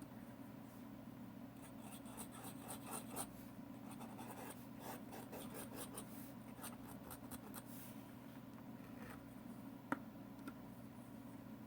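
A flexible pen nib scratches across paper in short, quiet, uneven strokes with light scraping and ticking, close up and alone.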